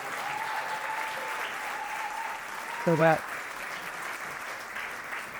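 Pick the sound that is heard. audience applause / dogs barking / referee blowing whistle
audience applause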